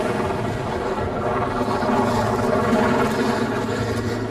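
A rescue helicopter in the Himalayas thrums with a steady, loud rotor and engine drone, layered with a low pulsing throb that holds evenly throughout, no voices present.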